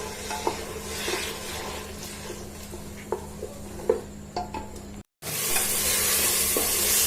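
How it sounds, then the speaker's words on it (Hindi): Onion sizzling on a medium flame for a gurda kaleji dish, with a steady close-up frying hiss and frequent scraping stir strokes; a brief gap near the end is followed by louder sizzling. "अब मैं डालूंगी इसमें प्याज और प्याज को मैं मीडियम फ्लेम पर इतना पकाऊंगी कि प्याज का कच्चापन खत्म हो जाए"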